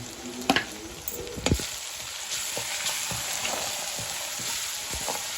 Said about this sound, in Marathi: आता आपण टाकू टोमॅटो कडीपत्ता